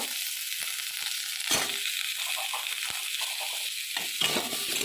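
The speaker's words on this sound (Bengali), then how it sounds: "আমি আলু কুমড়ো দুটো একসঙ্গেই ভেজে নেব" Potatoes and pumpkin fry together in a pan with a steady close sizzle, punctuated by several sharp scraping stirs.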